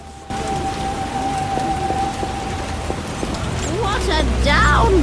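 Heavy rain pours down in The Witcher video game as a steady, dense hiss. A voice talks over it, and a tonal game sound chimes near the end.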